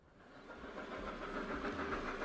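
A train sound effect plays as a stream alert, a steady rail rumble with hissing steam and clickety-clack that swells gradually over a couple of seconds, with no voices.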